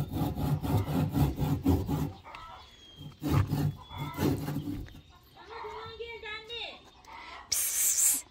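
A hand saw cuts wood during village renovation work, giving rhythmic rasping back-and-forth strokes in bursts, with a Turkish-speaking voice heard between and over the sawing.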